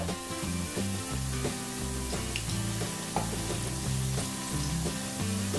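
Chembappam, a taro leaf snack, fries in hot oil on a medium flame, a soft steady sizzle with faint bubbling and a few light stirring sounds, with no one talking.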